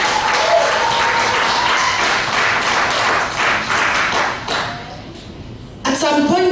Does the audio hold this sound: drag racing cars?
no